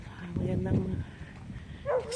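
A dog barks a few times at a moderate distance, with a higher yip near the end, over low background noise.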